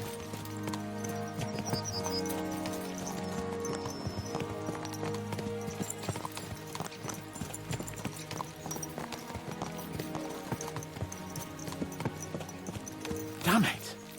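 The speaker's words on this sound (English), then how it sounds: "Let's really spur these horses on, eh?" Horses gallop in Kingdom Come: Deliverance II with a steady clip-clop of hooves under a bed of music, a neigh rising near the end.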